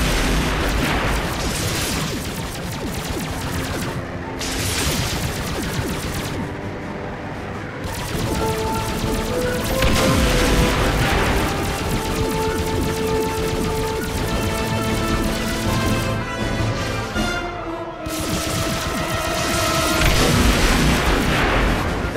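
Phaser fire and explosions crash continuously through a Star Trek video game space battle, loud and dense, with booming blasts and rapid bursts layered over a constant roar and game music.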